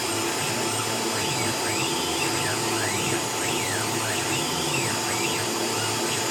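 CNC milling machine finishing the last cut on a metal sprocket in a home workshop: a loud, steady whining machining noise with rising and falling tonal sweeps as the cutter travels around, continuous throughout.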